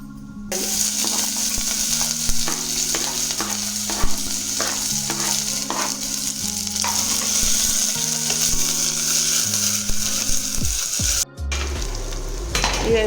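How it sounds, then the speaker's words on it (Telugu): Ginger garlic paste sizzles loudly in hot oil in a pressure cooker for mutton curry, with a spoon scraping and stirring in steady strokes throughout and a brief clatter near the end. "ఒక స్పూన్ మళ్ళీ అల్లం వెల్లుల్లి పేస్ట్ ఇట్లా ఆయిల్లో వేసి బాగా కొంచెం ఫ్రై అయ్యే వరకు కలుపుకోవాలి"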